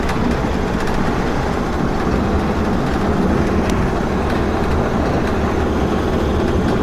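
A 1972 VW Super Beetle drives in low gear after a downshift, its engine giving a steady loud drone mixed with heavy wind and road rumble, continuous and close, with no speech.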